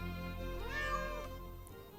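A single drawn-out cat meow from the Dwarf Fortress video game, clear and fairly loud over a steady tonal hum of game music.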